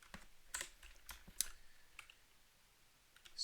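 Computer keys click in an irregular run of quiet taps, some sharper than others, close by in a quiet room.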